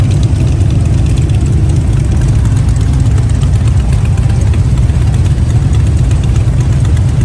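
Hundreds of Harley motorcycles idle together at a Christmas toy run on the Gulf Coast, making a loud, dense, continuous low rumble that stays steady throughout with no talk.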